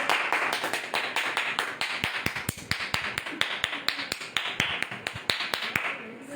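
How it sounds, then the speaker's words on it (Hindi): A church congregation clapping hands in a fast, even rhythm, many crisp claps ringing out together in a room, with voices speaking or singing faintly underneath. "जोरदार ताली बजाएं एंजल के लिए"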